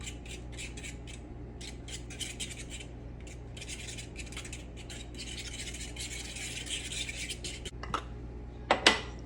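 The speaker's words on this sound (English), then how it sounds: "you can scramble them in the hot pan" Eggs being scrambled in a hot pan for freezer breakfast burritos and sandwiches, heard as repeated close metallic scraping and clinking of a utensil against the pan in irregular bursts over a steady low hum, with a few sharper clacks near the end.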